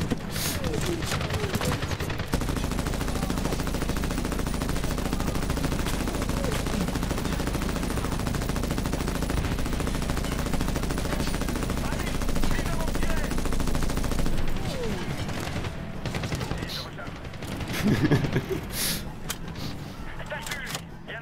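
Dense gunfire in the 2010 game Medal of Honor, sustained machine-gun bursts and rattling shots filling the scene, thinning toward the end into scattered shots, with people talking over it.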